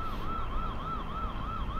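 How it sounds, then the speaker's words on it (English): Uniview Tri-Guard 2.0 security camera's built-in siren alarm, a steady wailing electronic tone that rises and falls in a quick, regular cycle, loud and close, with no talk over it. "I'm going to use number 10, which is like a kind of siren alarm sound."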